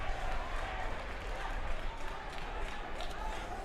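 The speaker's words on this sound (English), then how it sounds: "Hetherington gets a cheer for a slide tackle" Crowd at a Scottish League 1 football match between Falkirk and Alloa raises a steady cheer over a slide tackle, a broad continuous roar with scattered clapping, fairly distant and even throughout.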